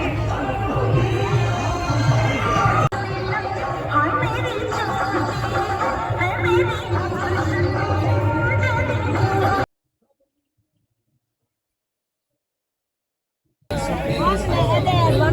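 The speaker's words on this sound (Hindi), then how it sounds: "सीरियसली बहुत भीड़ है यहाँ पर" A dense crowd at a busy live qawwali venue chatters and murmurs steadily, with scattered laughter. Several seconds of silence break the babble before it resumes.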